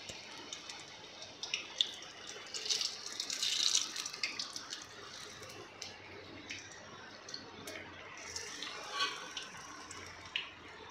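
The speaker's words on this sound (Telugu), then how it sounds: "ఇప్పుడు సమోసాలు డీప్ ఫ్రై చేసుకుందాం. ఒక్కొక్కటిగా మెల్లగా వేసుకుందాం ఆయిల్లో." Samosas sizzle and bubble as they deep fry in hot oil, a steady faint crackle with brief louder bursts of frying, no talk over it.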